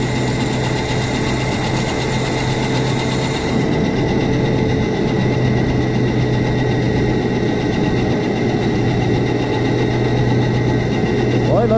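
Quad bike converted from a petrol engine to an electric motor, accelerating with a steady, continuous whine and hum that holds at a constant level throughout, with a person talking over it.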